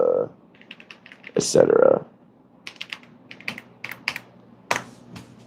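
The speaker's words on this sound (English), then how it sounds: "I don't know if you guys can hear this keyboard through my mic, but I don't know, it's clicky" A clicky computer keyboard clatters in short bursts of sharp keystrokes, close and crisp, with a person speaking between and over the typing.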